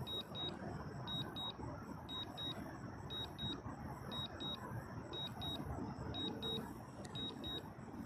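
A DJI Mini 5 Pro drone gives off repeated pairs of short high electronic beeps, about one pair per second, steady and fairly clear over a loud, dense outdoor wind and rumble background.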